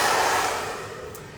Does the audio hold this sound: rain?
no